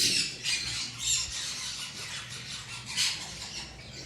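A blue monk parakeet from a breeder pair gives several sharp, harsh squawks in irregular bursts, moderately close against a faint background.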